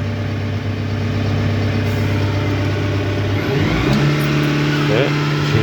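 A Merlo P40.17 telehandler diesel engine idling steadily, then climbing to a higher revving pitch as DPF regeneration kicks in, loud and close with some talk over it.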